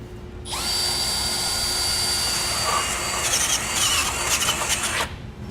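A power drill whines steadily as it bores a pilot hole, later enlarged to 17/32 inch, for a base plate on a 2005 Chevrolet, with high-pitched squealing and grinding growing rougher toward the end, loud and close, no talking.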